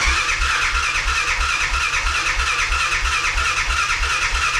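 A 2008 Honda Foreman 500 ATV engine running after starting, with a steady low, pulsing idle thrum and a constant mechanical hum recorded close up.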